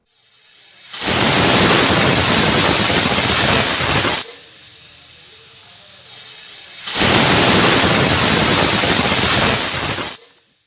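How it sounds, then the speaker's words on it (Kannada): A pressure cooker cooking rice and moong dal for khara pongal lets out two long, loud steam whistles, each a sustained hiss lasting a few seconds, with a quieter pause between them. "ಎರಡು ವಿಜಲ್ ಆಗಿದೆ."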